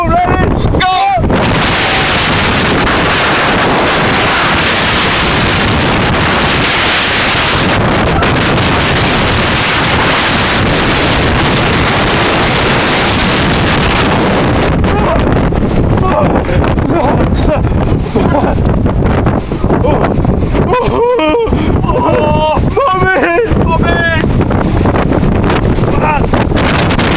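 Strong gusting wind in Sumburgh buffeting the microphone, a loud continuous roar and rumble, with shouted voices and rattling breaking through in the later part.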